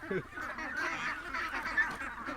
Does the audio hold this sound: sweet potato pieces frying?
no